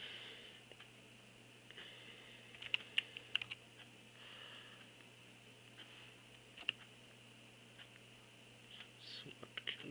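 Keys tapped on a SmartQ V7 tablet's keyboard, a sparse run of soft, quick clicks near the middle and again at the end over a steady hum, with no voices.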